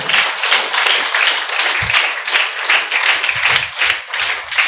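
A church congregation at CFM Church in Nellore claps together in praise, producing a dense, steady wash of many hands that holds loud and unbroken from start to finish.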